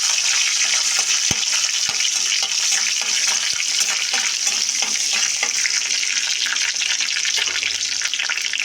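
Bay leaf and dried red chilies frying in hot oil, giving a loud continuous hiss and crackle close up with a few sharp ticks of a spoon against the pan and no talk.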